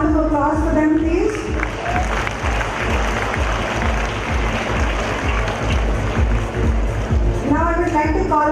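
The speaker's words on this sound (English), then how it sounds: "Let's have a round of applause for them, please." A school annual day audience applauds performers in a hall, a broad wash of clapping and light cheering, with voices and low rumbling speaker-system sound at the start and end.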